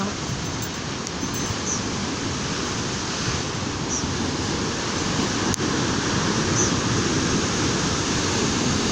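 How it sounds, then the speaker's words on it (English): Continuous rushing of high surf washing against a lake shore, broad and steady with no pauses, fairly close and filling the whole scene. "You see how peaceful that water sounds?"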